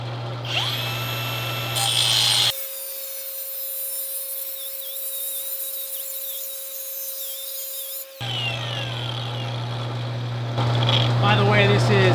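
A DuoDisc cutoff wheel slices through 1 1/4 inch steel tube with a 1/8 inch wall, giving a steady, piercing grinding whine for about six seconds. Shop noise and a voice come before and after the cut.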